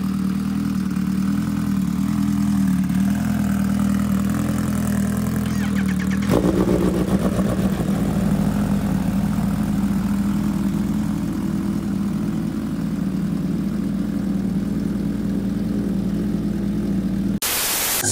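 A Kawasaki Ninja H2 motorcycle engine idling, a loud, steady low rumble that shifts in tone partway through and keeps a constant drone to the end, with no voices.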